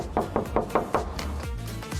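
Knuckles rap on an apartment door in Turkey, coming as a quick run of four or five close, loud knocks followed by a short pause and scuffling.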